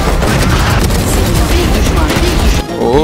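Dense rapid gunfire from a video game weapon, a loud sustained burst of shots and booms filling the clip before a brief drop near the end.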